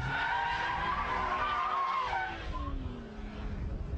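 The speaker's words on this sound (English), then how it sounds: "We're happily power sliding" A car power slides with tires squealing in a sustained, pitch-wavering screech over a steady engine roar, loud and close, easing off near the end.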